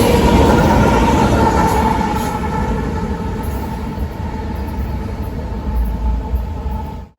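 A Union Pacific freight train with a DPU locomotive rumbles past close by in central Ohio, its heavy, steady roar and rolling wheel noise holding loud and continuous throughout.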